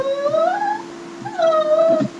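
A dog whimpering and crying in the Mineplex Christmas Chaos video game, two drawn-out rising and falling whines close and clear, separated by a short pause.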